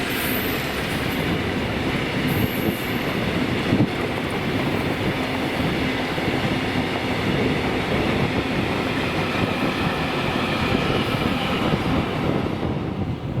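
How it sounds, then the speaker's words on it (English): An engineers' freight train, the 6S50 from Carlisle to Millerhill, passes close by at Peppermill in Scotland, making a continuous loud rumble with rhythmic wheel clatter and a faint high squeal. "this is 6S50, the Monday to Friday Carlisle to Millerhill Engineers, passing here"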